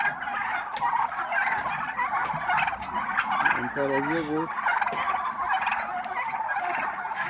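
Male turkeys at a market gobble in dense, repeated bursts, loud and close, with a brief human voice heard among the calls.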